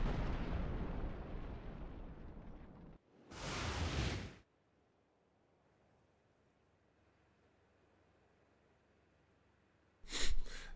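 A cannon fires in Ark Survival Evolved, mounted on a Tek shield. Two loud, sharp booming blasts stand out after a dense rumbling wash of in-game noise, with near silence between them.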